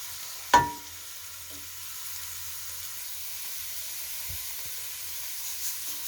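Vegetables and tofu drop into a soup pot with one sharp clatter near the start, followed by a steady low simmering hiss and faint stirring knocks.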